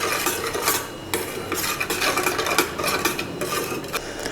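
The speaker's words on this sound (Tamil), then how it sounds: "மஞ்சத்தூள் உப்பெல்லாம் போட்டு இந்த புளி கூடயே வச்சு கலக்கிடலாம்." A spoon scrapes and swirls steadily against the side of a metal vessel, stirring liquid in a continuous, close rhythm.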